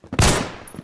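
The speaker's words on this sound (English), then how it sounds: "pistol now. I'm not afraid to use it." Pistol gunfire in the Roblox shooter Phantom Forces: a quick, loud burst of shots with a sharp attack and a short ringing tail that fades within the second.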